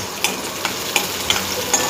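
Finely chopped onion frying in oil for bhindi (okra) curry, a steady close sizzle with a few sharp stir clicks spaced through it, no talk.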